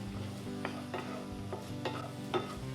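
Onions and jalapeño sautéing in a pan for breakfast tacos are stirred, with about five soft scraping strokes over a low, steady sizzle and a faint background hum.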